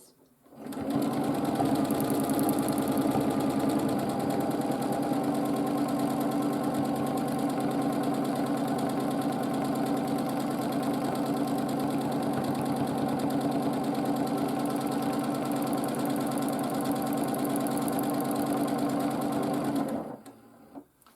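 Close and loud, a domestic sewing machine stitches free-motion arches on a Drunkard's Path quilt, its rapid even needle hum running nearly twenty seconds without pause before cutting off.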